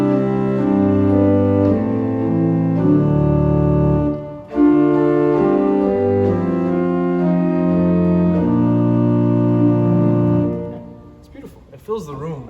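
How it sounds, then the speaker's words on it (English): An 8-foot principal stop on a large pipe organ, sounding from the Hauptwerk facade pipes, plays loud sustained chords and slow-moving notes that fill a resonant room for about ten seconds, then cut off as a voice begins. "that 8-foot principle sounds like this"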